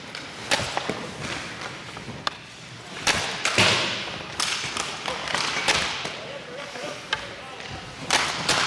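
Hockey pucks fired at a goalie in a practice drill land as sharp, separate thuds and cracks at uneven intervals, loud and close, with a coach talking throughout.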